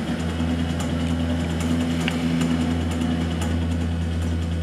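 A 15-watt laser engraver with a GRBL controller runs steadily at close range, a constant mechanical hum with a high whine and faint periodic ticks from its motors.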